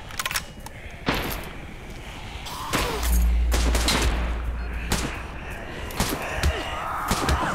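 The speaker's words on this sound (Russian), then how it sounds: "по нам стреляют откуда-то" Bursts of sharp gunshots crack out irregularly in the zombie shooter video game Dead Raid, some in quick clusters, over a low rumbling background, with occasional heavier thuds.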